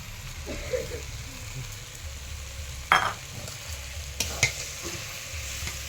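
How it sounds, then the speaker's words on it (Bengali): Spinach greens being stirred in a pan with a soft, continuous sizzle and low background rumble, and a few sharper scraping strokes scattered across the clip. "এবার এইভাবে নাড়াচাড়া করবেন যতক্ষণ না শাকের জলটা মরছে।"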